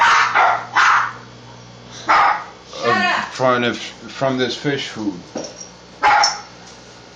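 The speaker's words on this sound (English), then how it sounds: "the dogs are going crazy" Several dogs bark in excited bursts, loud and close, with yips between them, while someone talks over and between the barks.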